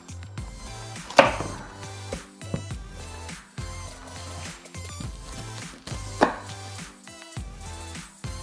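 Knife chopping through a tough acorn squash on a cutting board for roasted squash soup, with several sharp cuts and two especially loud thuds among softer knocks.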